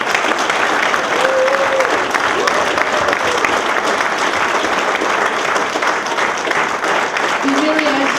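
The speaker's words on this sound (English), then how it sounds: "a massive round of applause for everything he's done for this club" Fans at an end-of-season club event give a sustained round of applause, dense and steady throughout, with a few faint voices rising above the clapping.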